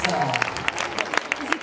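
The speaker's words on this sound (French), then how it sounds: "Vous pouvez l'applaudir bien fort" An audience applauding a singer contestant on stage at a singing competition, quiet, scattered claps heard beneath a talking voice.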